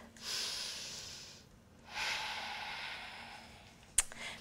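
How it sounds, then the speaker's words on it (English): Two slow, deep breaths during a pregnancy yoga session, each a long, soft airy inhale-exhale heard close and alone, ending with a brief sharp click. "take a deep breath"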